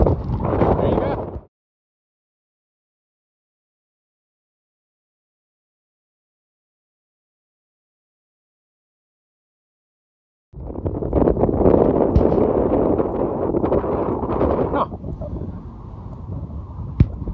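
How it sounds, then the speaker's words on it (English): Blustery wind buffets the microphone in loud rumbling gusts, cutting out to silence for several seconds before roaring back. "Oh, it's windy."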